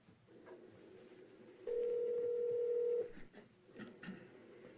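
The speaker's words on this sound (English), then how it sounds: "You will now hear an audio clip of that 911 call." A steady electronic phone tone from a recorded 911 call sounds for about a second and a half amid background noise, followed by a few faint clicks.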